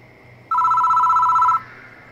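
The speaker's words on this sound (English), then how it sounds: "The phone rings." A telephone ringing in the video game Death Mark, a single loud electronic trill burst lasting about a second over a quiet background hum, with no talking.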